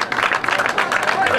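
An audience applauds at the prize giving for an enduro rally in Villa de Teror, a short burst of dense, close clapping.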